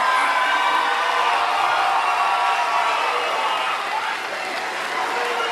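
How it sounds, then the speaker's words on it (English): A crowd of families applauds graduates at an 8th grade moving ceremony, a steady, dense wash of clapping mixed with scattered cheers and whoops that holds for the whole stretch. "Let's give it one last round of applause to our graduates."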